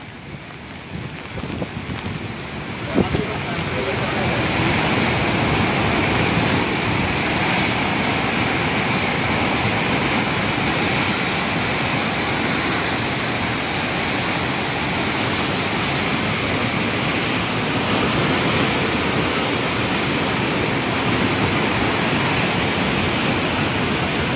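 Rising floodwater rushes in Madhopur, a dense, continuous roar of moving water that holds steady and loud after a brief quieter opening, with no voices over it.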